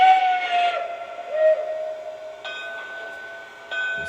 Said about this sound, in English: I believe that it was a Banshee whistle and clearly not prototypical for an engine of this size.